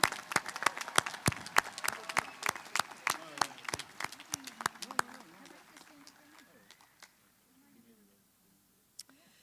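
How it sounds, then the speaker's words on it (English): Sharp, distinct claps ring out in a rapid rhythm at a university commencement for School of Computing and Engineering graduates, thinning and fading over several seconds to near quiet, with a voice speaking under and after them. "can we have one last round of applause for the now graduates from the School of Computing and Engineering?"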